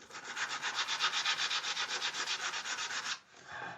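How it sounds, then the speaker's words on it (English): Sandpaper rubbed over the wooden body of a custom-built guitar in a luthier's workshop, a steady run of rhythmic back-and-forth strokes, close and loud, stopping abruptly near the end. "And then I'm going to sand that outside."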